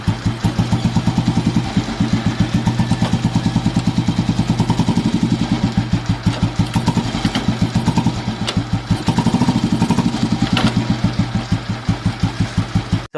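Royal Enfield motorcycle with right-side gearbox, a 2003 last-production model, engine thumping in a steady loud close-up beat, idling with slight blips of revs throughout.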